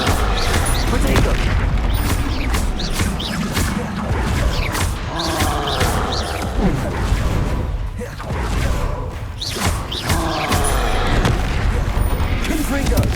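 Hogwarts Legacy spell combat: a steady barrage of heavy booming blasts and crashing impacts, dense and loud throughout, with a voice shouting spell names over the explosions.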